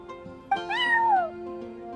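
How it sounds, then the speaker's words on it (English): A cat's single rising-and-falling meow sounds close and clear in Genshin Impact, a drawn-out call with a brief faint sound just before it and a quiet tonal background. "I'm sorry, that's my neighbor's cat."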